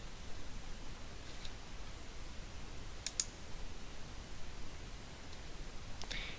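Mouse clicks on a company name in CRM software, a few sharp, faint clicks scattered over a steady low hiss, with a close pair near the middle and another near the end.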